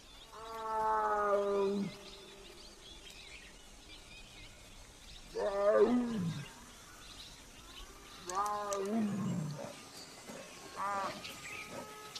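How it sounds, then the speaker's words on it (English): A tigress roams near a lake area, giving several loud, drawn-out moaning roars in separate bursts, each fading out before the next, against quiet open-air background. "She came walking towards me, roaring all the way. So I knew she was calling the cubs."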